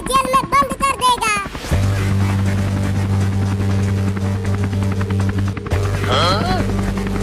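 A helicopter's steady, loud rotor-and-engine drone runs through most of the scene after a burst of high-pitched cartoon voices, cutting out briefly before resuming under more chattering voices.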